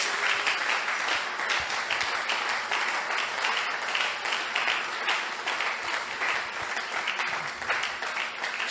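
A church congregation applauds the Lord during a prayer and fasting service, steady sustained clapping from many hands filling the room without a break, fairly loud and continuous throughout.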